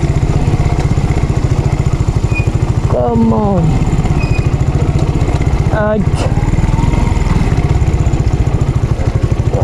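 A motorcycle on a rough off-road route toward Pokhara chugs loudly with a steady rapid engine pulse as it pushes through water on the road, while a rider shouts briefly over the noise.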